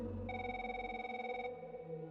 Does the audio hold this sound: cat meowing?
no